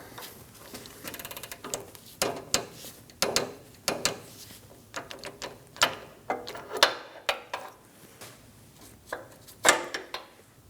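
A hand ratchet clicks in repeated short bursts while tightening the rear sway bar link bolts on a 2009-2017 Audi Q5, close and crisp with brief pauses between strokes.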